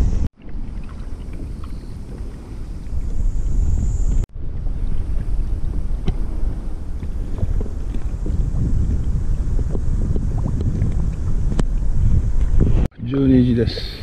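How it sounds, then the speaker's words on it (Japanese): Gusty wind buffets the microphone over lapping water on the Matsuura River near a boat, a continuous rough rumble with a few abrupt breaks, and a voice briefly speaks toward the end. "風が強くなってきたんで波が、ちょっとワンワンしてますね。"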